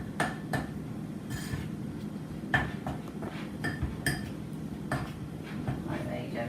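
A wooden spoon scrapes and knocks in a baking bowl during an Easter bake-along, with irregular close clinks and taps over a quiet room background.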